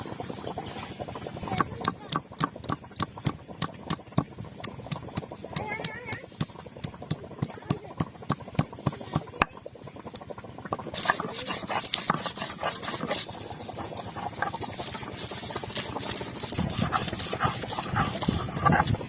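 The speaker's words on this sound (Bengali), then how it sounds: "এখন আদা রসুন বেটে নেব।" Ginger and garlic crushed into paste on a grinding stone produce a rapid series of sharp scraping, clacking strokes in a steady rhythm, close and distinct. A denser, rougher grinding follows later.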